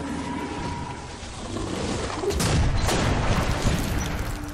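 A grenade goes off in the video game Metro Last Light, a muffled boom swelling into a rumbling roar with crackling debris amid other game noise, moderately loud and lasting a couple of seconds.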